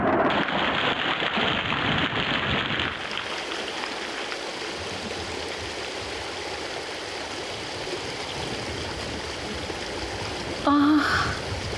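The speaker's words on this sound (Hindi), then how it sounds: "ओह, बाहर तो बारिश हो रही है।" Rain falling outside in an animated fairy story set near a mountain: a steady, dense hiss of rainfall, louder at first and then softer and continuous, with a brief sharp sound near the end.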